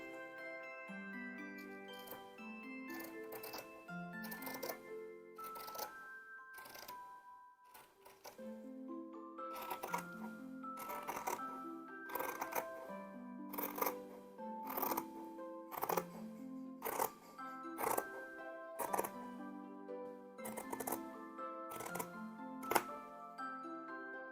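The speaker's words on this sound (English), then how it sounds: "Those cutting sounds are so satisfying." Rapid, crisp scissor snips cutting fabric, repeating in quick bursts over steady melodic background music.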